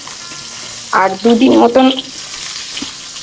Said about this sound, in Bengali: এদিকে কাতলা মাছ ভাজছি